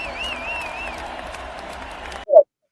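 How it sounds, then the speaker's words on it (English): A crowd applause sound effect played during a podcast: dense, steady clapping and cheering that cuts off abruptly, followed by a short vocal burst. "Let's clap it up for that shit."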